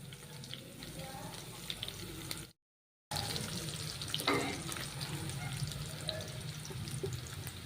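Onions frying in a pan for an amaranth-leaf curry give off a steady, moderately loud sizzle with faint stirring, cut by a brief silent gap partway through.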